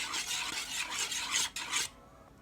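Slime gets stirred in a bowl with a mixing tool, making a continuous wet raspy scraping and rubbing, fairly close and steady, fading out near the end.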